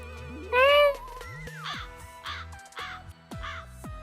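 A crow cawing in the game Blue Archive, several sharp, bright caws in a quick series after a loud opening call, close and clear against a soft tonal game soundtrack.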